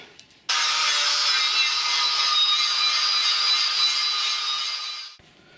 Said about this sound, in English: Just going to straighten up the edges with the grinder.